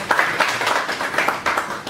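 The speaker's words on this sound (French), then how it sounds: "On peut applaudir pour le grand maître qui est là." A small press-conference audience claps briefly, a short burst of individual hand claps with an uneven rhythm, fairly close and moderately loud.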